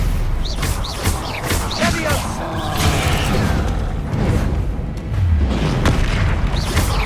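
Spell-casting effects from the Hogwarts Legacy video game, with a Stupefy stunning spell among them: repeated booming impacts and whooshing bursts arrive in quick succession, loud and busy, over continuous game sound and background noise.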